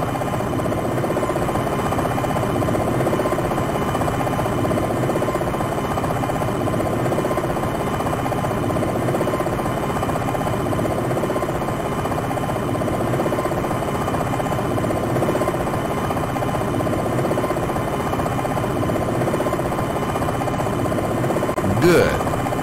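An AH-64D Longbow helicopter in Jane's AH-64D Longbow flight sim drones steadily while descending at reduced torque, a constant mid-range engine and rotor rumble holding level throughout with little change.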